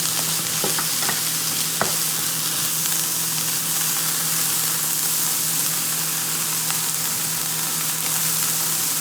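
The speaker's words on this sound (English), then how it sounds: "These are sizzling pretty well, so I'm going to turn them down to medium." Vegetables sauteeing in a hot pan give a steady, loud, dense sizzle that fills the whole stretch, with a few faint clicks and a low hum underneath.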